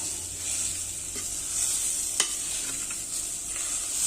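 Grated raw plantain frying in a pan for a Tamil poriyal, a soft steady sizzle with a few faint stirring clicks and one sharp tap, close and fairly quiet.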